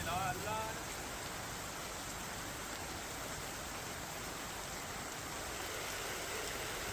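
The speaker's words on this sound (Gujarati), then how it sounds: "છોટાઉદેપુર પાવી જેતપુરમાં 2 કલાકમાં 2 ઇંચ વરસાદ ખાબક્યો" Monsoon rain falls in Gujarat, a steady, even hiss of rainfall that stays constant and moderately faint throughout.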